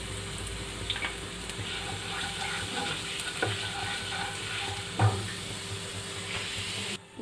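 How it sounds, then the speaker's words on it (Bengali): Cumin seeds and asafoetida sizzle in hot oil for chana chaat, a steady close crackling hiss with a few faint clinks and one sharper knock near the middle. "তেল গরম হয়ে গেছে, দিয়ে দিচ্ছি জিরে।"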